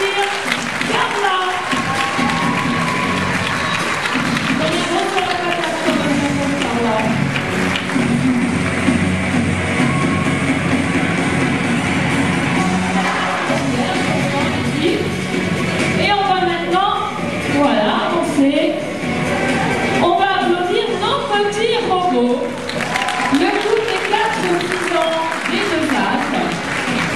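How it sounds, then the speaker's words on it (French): An audience applauds at a dance show performance, the clapping running continuously beneath music and a voice on a microphone throughout. "Je voudrais l'applaudir, Carla."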